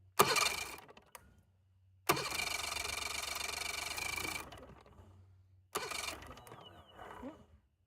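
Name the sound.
Mercury 70 HP outboard motor cranking, not starting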